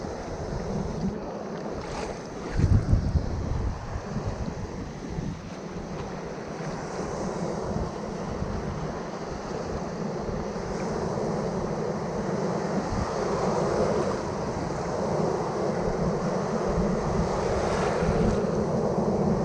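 Rough sea waves around a small fishing boat, a steady loud wash of water and wind buffeting the microphone, with a brief knock of the hull, nobody talking.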